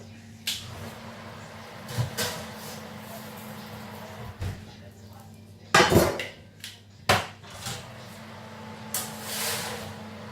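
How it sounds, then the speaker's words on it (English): A metal baking tray is pulled from a home oven during pizza making, giving several scattered metallic clanks and scrapes, with one louder clatter near the middle against a steady low hum. "Just going to get the tray out of the oven."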